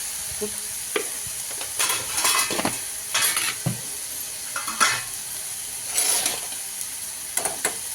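Vegetables with crushed peanuts and salt sizzle steadily in a pan, with repeated scraping stirs of a spoon in bursts over the frying, close and alone without talk.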